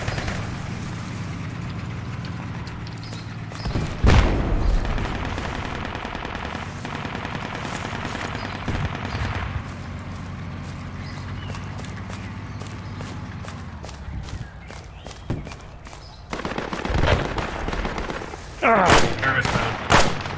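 Sustained automatic gunfire and bursts of shots in the military video game Project Reality, loud and continuous with rapid fusillades, heavier bursts near the start and end, and distant battle noise underneath.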